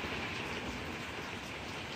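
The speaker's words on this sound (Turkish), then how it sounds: "Şimdi devam ediyor zaten yağmaya." Steady, even rain hiss with no breaks, a dense wash of falling drops close by and nothing else heard.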